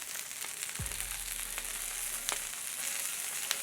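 Wagyu burger patties sizzle steadily on a hot Blackstone griddle, a bright continuous crackle with occasional sharper pops and a brief low scrape near the start, and no one speaking.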